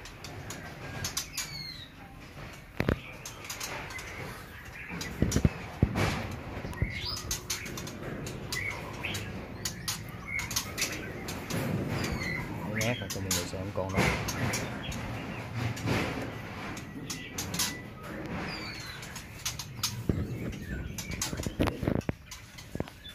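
Many white-rumped shamas flutter their wings and call at a large bird farm in Vietnam. Dense chirps, tweets and repeated bursts of flapping mix together at a moderate level, with no speech.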